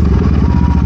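A Bajaj Pulsar motorcycle engine, loud and close, with a steady throbbing mid-range drone and slight clatter over a short burst, on an off-road trail in the morning.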